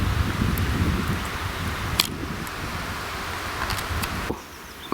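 Wind rustling leaves in the taiga forest, a steady broad hiss that holds for most of the clip with a couple of brief sharp crackles, then drops briefly near the end.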